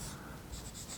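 A pen scratches out an equation by hand, faint close-up strokes in a few quick bursts with no voice.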